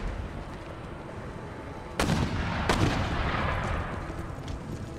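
Mortars and howitzers firing during a siege battle in Empire: Total War, two sharp reports at about two and three seconds ringing out over a constant dense rumble of distant cannon fire and battle noise.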